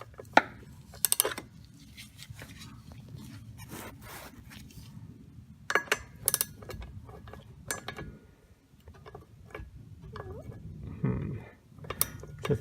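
A wrench works on the drive shaft bolts of a BMW E46 M3 with SMG transmission, giving faint, close metallic clicks and ratcheting ticks in scattered bursts against a low, quiet background.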